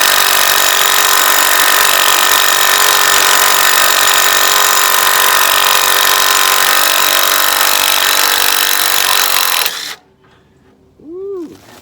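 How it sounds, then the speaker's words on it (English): A power wire brush grinds loudly and continuously against a rusty nut on a Ford F350 truck's front suspension, a harsh close scraping whir for nearly ten seconds before cutting off, followed by a brief faint squeak. "I'm gonna go in here and get me a wire brush and kind of help remove some of this."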